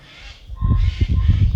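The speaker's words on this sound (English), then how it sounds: "So as we move away from the squawking birds" Short, honking squawks from birds, repeated in a rough rhythm, fairly close and moderately loud.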